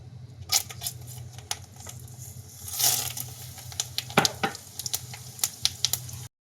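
Fenugreek seeds, curry leaves, whole dried red chillies and garlic sizzling in hot oil for a kadhi tempering, a close, steady crackle with scattered sharp pops and a louder burst of spattering midway.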